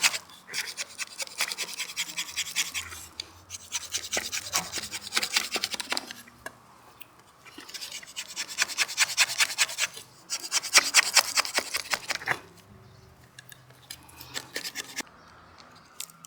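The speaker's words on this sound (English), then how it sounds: "I simply continue to quickly scrape away the wood with a chisel." A chisel scrapes wood to deepen a recess while building a blowgun in the wild with Swiss Army knife tools, rasping close-up in three long bursts of rapid strokes separated by short pauses.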